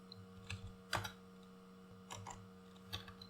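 Keystrokes on a computer keyboard while entering HTML and CSS shorthand, a few scattered clicks in short bursts, faint and close, over a steady low hum.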